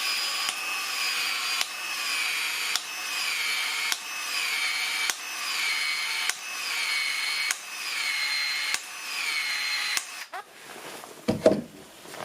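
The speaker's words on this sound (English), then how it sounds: "And then I have my PEX expander tool, 3/4 inch head, and we're just gonna start expanding." A PEX expander tool fitted with a 3/4 inch head stretches the end of Uponor PEX pipe during a home plumbing install, giving about nine evenly spaced mechanical whirring bursts of expansion with short clicks between them, then a few louder handling knocks at the end.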